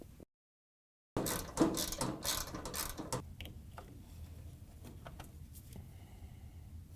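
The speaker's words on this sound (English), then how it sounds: "You got to use a 12mm socket and reach down in there so we can take them out" Ratchet with a 12mm socket turning bolts out of a Samsung washer while replacing the circulation pump: a quick burst of clicking ratchet strokes close by, then fainter scattered clicks and handling knocks, with no speech.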